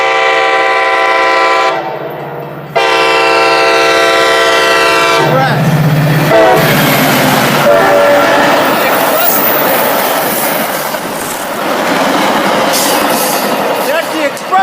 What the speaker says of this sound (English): That's the express train.